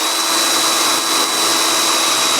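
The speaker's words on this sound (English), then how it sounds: "So now we have all the holes drilled that we're going to need to assemble this thing." A power drill bores holes in a kayak fishing crate, giving a loud, steady, close-up whine that runs unbroken for the whole stretch with no talking.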